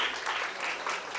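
Crowd applause at a school prize distribution ceremony in Haryana, a dense, steady wash of many hands clapping together, moderately loud and continuous from start to finish.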